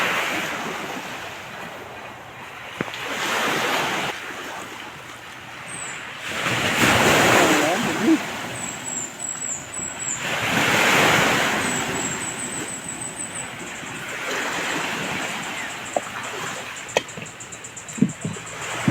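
Open sea with wind and waves heard from a small fishing boat: surging swells rise and fall in loud gusts of rushing water and wind buffeting the microphone, with some faint voices underneath.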